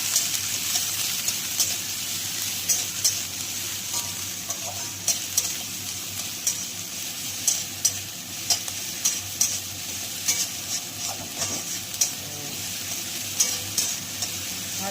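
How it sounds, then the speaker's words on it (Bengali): Chopped onions frying in a pan, a constant close sizzle broken by regular scraping stirs every second or so, with no voices over it. "ভাজতে ভাজতে ট্রান্সপারেন্ট কালারটাও চলে আসছে"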